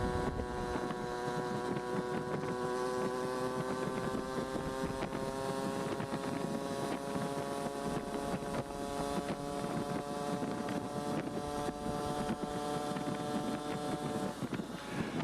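A Yamaha QT50 scooter fitted with a Ripper kit engine runs steadily for the whole stretch, a continuous buzzing two-stroke drone with wind noise over the microphone and no talk.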